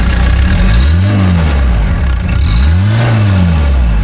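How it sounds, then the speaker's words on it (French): A Citroën C15 engine revs hard twice through its original exhaust, rising and falling in pitch with a deep, loud rumble throughout. "Mathieu va vous faire écouter l'échappement d'origine du C15."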